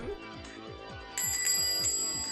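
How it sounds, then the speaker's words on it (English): A shop door bell rings brightly and briefly as a door shuts, sounding over a steady low rhythmic background pulse in a quiet indoor setting. "The bell rang playfully as the door shut behind them."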